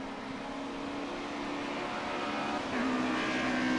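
Historic touring cars racing, a BMW chasing a Ford, their engines droning steadily nearby, with the pitch lifting and the sound getting louder partway through as they accelerate.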